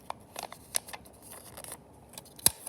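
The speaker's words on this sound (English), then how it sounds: "I forgot to cut this little part" Scissors snipping paper parts for a model Gothic building, a handful of quick, quiet cuts and paper rustles spaced irregularly, one sharper snip near the end, with no talking.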